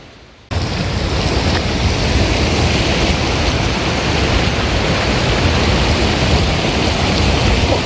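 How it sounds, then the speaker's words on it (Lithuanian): Broad, dense roar of the wide waterfall at Kuldīga, Latvia, heard close up as continuous loud rushing water that starts abruptly after a brief quiet moment and holds steady throughout. "Kur matot už mano nugaros krioklys yra skaitomas plačiausiai Europoje"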